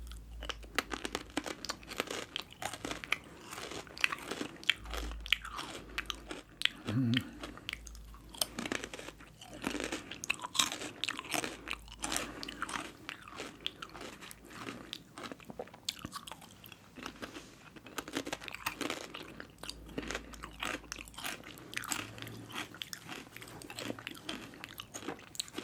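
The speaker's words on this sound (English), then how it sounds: "good old BLT sandwich on some grilled bread. See how these Fritos taste." Someone eats a BLT sandwich on grilled bread and chili cheese Fritos close to the mic, with steady crunching bites and chewing plus some crinkling over the whole stretch, and no talk.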